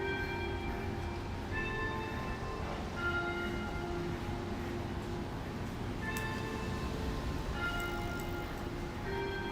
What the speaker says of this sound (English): The bells of St. Mark's Church.